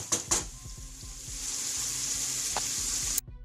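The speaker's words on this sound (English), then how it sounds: "we're going to let that cook until it's brown, until the celery and the onions have browned" Celery and onions fry in a pan until browned, a dense, close sizzle with a few sharp stirring scrapes near the start, then an even hiss that cuts off abruptly at the end.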